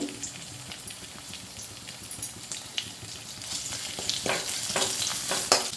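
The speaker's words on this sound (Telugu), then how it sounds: "ఉల్లిపాయలు వేగుతున్నప్పుడు అల్లం వెల్లి పేస్ట్ యాడ్ చేసుకోవాలి" Onions, green chilies and ginger-garlic paste frying in oil for chicken biryani, a continuous crackling sizzle with occasional stirring scrapes, growing louder and busier toward the end, close up with no speech.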